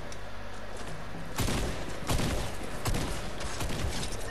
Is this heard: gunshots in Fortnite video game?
yes